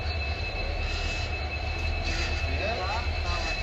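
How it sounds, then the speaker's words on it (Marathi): A train passing a railway crossing near Daulatabad, heard as a steady, loud rolling rumble with a faint metallic wheel squeal rising over it throughout. "ट्रेन क्रॉस होती त्याच्यामुळं थांबलेलो आपण"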